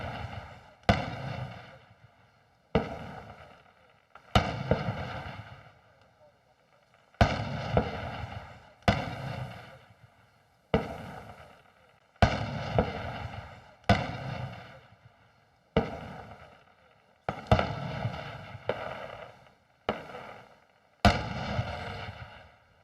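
Fireworks for an Armed Forces Day celebration at a parade ground in Myanmar burst in a steady series of sharp booms, each followed by a crackling decay, distant and unaccompanied by talk.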